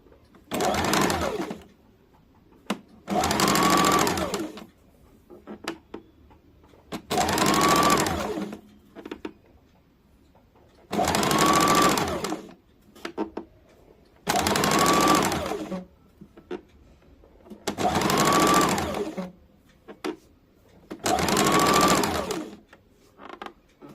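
A sewing machine stitches lace onto the sleeve of a kurti in six separate bursts of rapid whirring, each a few seconds long with short pauses between, close and clear with no talking.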